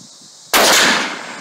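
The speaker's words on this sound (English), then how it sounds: "First rifle, what are you using? Uh, it's a 243. It's a beat up old ranch gun." A single loud, sharp .243 rifle shot, fired from a beat-up old ranch gun into an old hard drive, bursts out abruptly after a quiet lead-in and then rings off with a slowly decaying tail.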